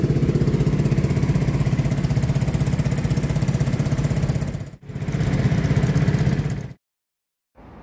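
A scooter engine drones steadily while riding on a hot day in Edirne, Turkey, a loud close buzzing hum with a sudden brief dip, then the noise resumes before cutting out to silence.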